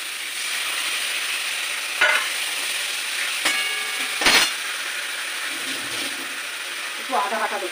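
Fried onion with tomato added sizzles in a pan for biryani, a steady close frying hiss with a few sharp metallic scrapes and clicks from stirring.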